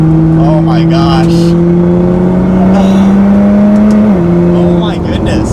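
A Nissan GT-R at high speed on a tight, dusty road gives a loud, steady engine drone with a brief pitch shift near the end. Someone talks over it.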